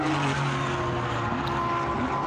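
A CMR-prepared Ferrari Challenge race car hot lapping the Portimão circuit during a GT sprint race, its engine a loud continuous whine with shifting pitch, sweeping past over a steady roar.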